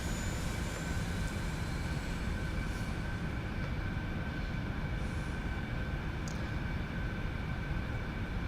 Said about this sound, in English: And then we can turn on our generators.